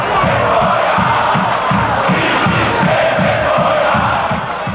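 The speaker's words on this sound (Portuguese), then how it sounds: "Festa em campo, revolta nas arquibancadas." Loud, dense football stadium crowd in a 2004 Brazilian league match, Palmeiras against Criciúma, roaring after a Criciúma goal, with rhythmic chanting and shouts pulsing steadily throughout.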